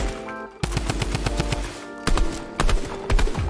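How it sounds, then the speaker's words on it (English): Rapid automatic gunfire in Fortnite, close and loud in several quick bursts separated by short pauses. "Quick rapid fire."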